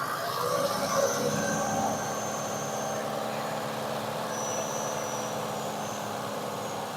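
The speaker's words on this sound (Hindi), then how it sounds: "इंजन का साउंड बिल्कुल ठीक है।" A car engine suffering from engine oil and water mixing runs at a steady idle just after starting, a constant close droning hum with no breaks.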